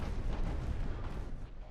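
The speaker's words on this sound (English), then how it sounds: "Still that gunfire going." Naval gunfire in Ultimate Admiral: Dreadnoughts rumbles as a dense, continuous roll of low booms and blasts, loud and sustained, with no single shot standing apart.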